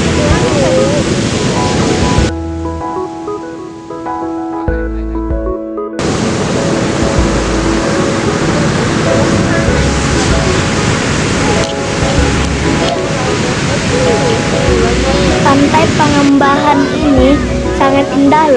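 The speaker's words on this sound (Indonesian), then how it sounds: "Tapi di sini tidak boleh berenang ya, karena ombaknya sangat besar dan tinggi." Big, high surf pounds a white-sand Indian Ocean beach at Pengumbahan, a loud continuous roar with rolling swells and wind rumble, while a person talks over it.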